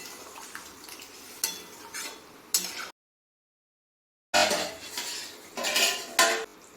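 Soybean and potato curry is stirred and fried in a pan over a gas flame, with repeated metal spoon clanks and scrapes over a low sizzle, broken by a stretch of silence and no speech.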